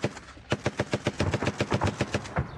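Automatic grenade launcher firing in combat, a steady rapid burst of about fourteen sharp, loud shots at even spacing, close by and with no talk over it.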